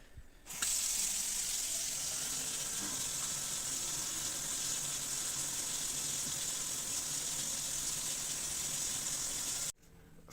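Hot water rushing steadily from a tap after a Vaillant Ecotec+ boiler repair, a faint, even hiss of flowing water running for about nine seconds before stopping abruptly.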